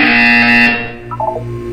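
Loud sustained buzzer tone from the Portal 2 video game, a steady harmonic drone lasting most of a second and then cutting off, followed by brief quieter electronic chirps.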